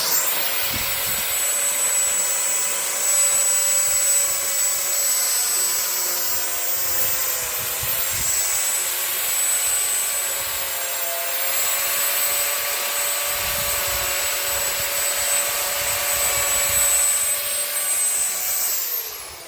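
Cordyline australis palm tree being cut and trimmed with a motorised tool: a loud, steady whining drone runs close and unbroken for the whole stretch, with slight shifts in pitch and no talking.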